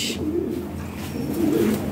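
Pair of breeding Lavender Lahori pigeons cooing up close in a continuous low, rolling coo, with a short hiss at the start and no talk.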